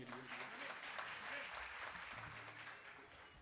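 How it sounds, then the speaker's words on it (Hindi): Audience clapping in a Hindi music gathering for a singer who performed a requested song, steady broadband applause throughout at moderate distance, with faint voices mixed in. "दोबारा तालियां अनिल जी के लिए"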